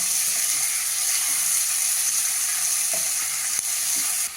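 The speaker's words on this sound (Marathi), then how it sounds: "कांदा घालूया उभा कापलेला उडदाच्या डाळीचा खमंग वास सुटला" Sliced onion sizzles in a frying pan with urad dal, giving a steady, loud hiss with faint stirring clicks and no voice.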